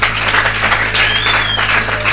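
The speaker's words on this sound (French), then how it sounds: "Applaudissons le Seigneur." A church congregation applauds in a dense, steady wash of clapping at close range, with a low electrical hum running underneath and no voices rising above it.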